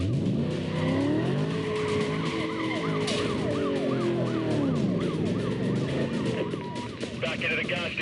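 A car skids across slippery ground in Need For Speed: Most Wanted, loud sustained tire squeal over a roaring engine, with police sirens wailing alongside throughout.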